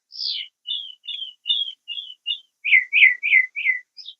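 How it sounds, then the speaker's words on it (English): A songbird sings outdoors, loud and close, in a run of short repeated whistled chirps that shift to a second, lower phrase of rapid notes, with no other sound around it. "this bird is singing"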